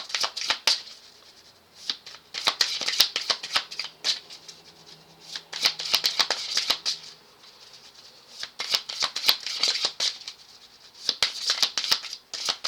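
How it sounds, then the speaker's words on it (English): Several bursts of playing cards being riffled and shuffled, crisp rapid flutters separated by short pauses, close by. "These cards don't shuffle. They don't shuffle for me"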